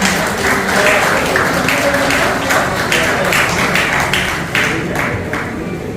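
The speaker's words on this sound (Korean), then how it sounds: "추가 박수 보내주시기 바랍니다" A crowd at a horse-racing trainers' association retirement ceremony gives sustained, loud applause, a thick wash of many hands clapping for several seconds with some voices mixed in.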